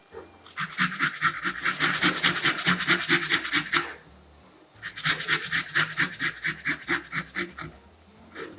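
Two cloves of garlic being ground for a Korean-style lunch box, heard as two close, steady runs of rapid rhythmic grinding strokes separated by a short pause.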